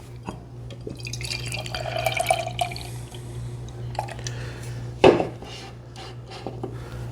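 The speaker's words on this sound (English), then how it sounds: "And I poured it pretty hard too" Tombstone beer poured hard into a glass, giving a steady liquid gurgle and fizz with faint glassy clinks, over a constant low hum, and a sharper knock near the end.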